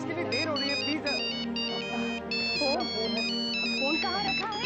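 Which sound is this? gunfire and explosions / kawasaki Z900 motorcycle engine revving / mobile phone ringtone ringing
mobile phone ringtone ringing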